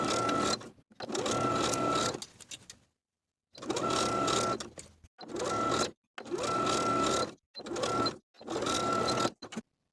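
A sewing machine stitches a 3/8 inch seam on a lined vest in several loud, close bursts of a few seconds each, separated by short silent pauses, with a steady mechanical whir and no talk.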